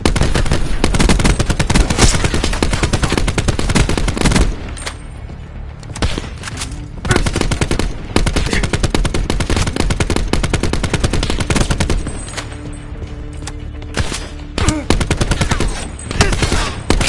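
Loud, dense video-game gunfire in a shooting training round, with rapid machine-gun bursts and clustered shots that pause twice before resuming close up.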